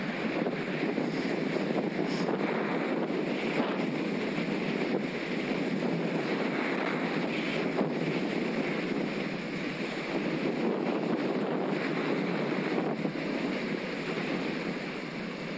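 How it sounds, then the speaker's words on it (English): Strong headwind buffets the microphone while riding a Specialized Turbo Vado SL e-bike through Macclesfield Forest in the Peak District, a continuous roaring wind rush with occasional gust thumps, steady and loud throughout without speech. "My word, the headwind's that strong."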